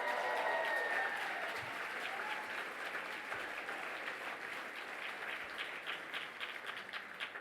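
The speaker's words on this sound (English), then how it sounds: "here's where I need you to really give a round of applause" An audience at an awards ceremony applauds, a dense wash of many hands clapping that holds steady for several seconds and then slowly thins, heard from within a large room.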